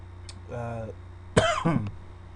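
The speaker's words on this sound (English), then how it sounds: "had a little bit of cough today." After a brief murmur, a person gives a harsh, rough cough, followed by a second shorter cough, close and fairly loud.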